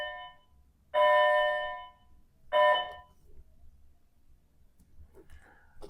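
Two loud electric school bell rings, each lasting about a second with a pause between, followed by faint background noise and distant voices.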